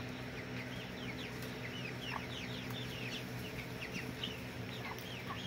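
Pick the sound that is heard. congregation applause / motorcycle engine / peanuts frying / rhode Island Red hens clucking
rhode Island Red hens clucking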